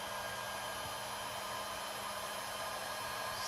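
An electric heater powered through a van inverter in a 2006 PleasureWay Excel gives a steady, unbroken fan-driven whoosh of airflow, close and even in level with no talking.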